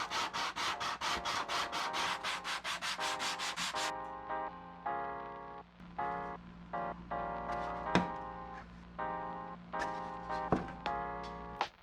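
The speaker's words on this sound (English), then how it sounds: "Hand sanding." Hand sanding a 3D printed RC plane part produces steady rhythmic rubbing strokes, fast and even at first, then slower uneven back-and-forth scrapes with a few sharp knocks, close and clear with no talking.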